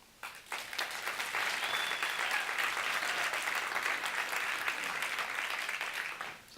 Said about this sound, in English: it was quite hard to spot anybody who wasn't clapping in the audience then